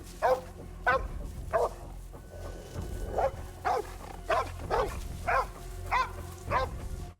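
A dog barks repeatedly in sharp, evenly spaced bursts over a low background hum in a game scene from The Last of Us, with the barks fairly near and loud throughout.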